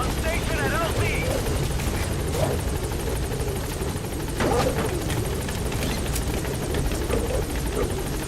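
The Pequod helicopter from a video game arrives at a landing zone, its rotor chopping steadily throughout under radio chatter and scattered in-game effects.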